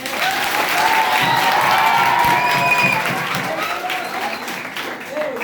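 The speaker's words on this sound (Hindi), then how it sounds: "इसलिए आप अपने लिए ताली बजाइए।" Schoolchildren in a classroom burst into sustained, loud applause with some cheering and shouting mixed in, the clapping filling the room before slowly tapering off.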